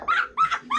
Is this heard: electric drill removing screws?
no